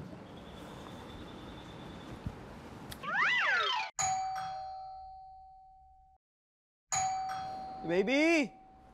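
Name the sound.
doorbell ringing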